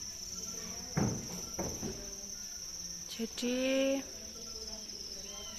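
Crickets on an Indonesian cricket farm keep up a continuous high, shrill chirping drone, with someone speaking briefly and handling noises of breeding trays nearby.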